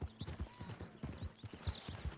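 Horse hooves pounding at a steady gallop in Red Dead Redemption 2, a rhythmic run of close, punchy clip-clop beats with a faint breathy layer and no talk over it.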